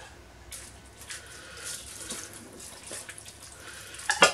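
Milk or another liquid poured over a bowl of cornflakes for a cornflake tart, a steady splashy pour that rises and stays moderately loud across the few seconds with a brighter burst at the end.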